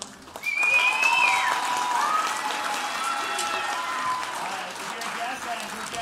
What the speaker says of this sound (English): Can we get one more round of applause for our tour band?